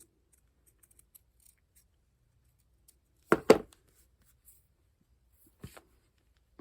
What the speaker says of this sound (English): cut this extra bit of lace off the bottom